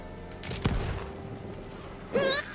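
Gunfire rattles out in Tiny Tina's Wonderlands, with a couple of sharp shots early and a brief burst near the end, fairly faint against a soft background.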